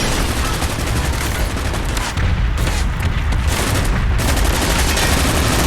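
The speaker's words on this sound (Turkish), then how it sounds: "Evet, bomba patladı." Explosive blasts and rapid gunfire from a video game, dense and loud throughout with a brief lull near the middle before the barrage resumes.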